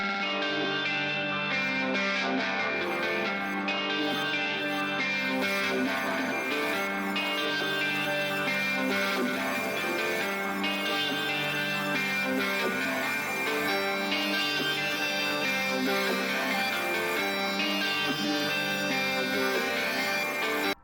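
A complete alternative-style beat melody built around a distinctive pluck, with EQ shaping and stereo separation set to 40%, plays loud and steady throughout with dense layered harmonics, reverb and effects, and no talking.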